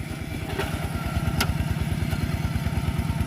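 A farm tractor in poor running condition, plowing a rice field in second gear, its engine chugging in a steady, rapid low thump that stays close and constant throughout, with no talking over it.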